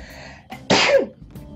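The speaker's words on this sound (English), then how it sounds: "Oh yeah, I gotta sneeze." A single sharp human sneeze follows a brief quick inhale and stands alone against quiet background sound.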